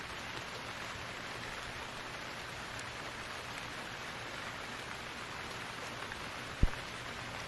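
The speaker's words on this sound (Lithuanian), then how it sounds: "Lietus prasidėjo. Labai nesmarkiai dar." Light rain patters on a camping tent at night, a soft, even hiss of small drops close by, with one sharp tap near the end.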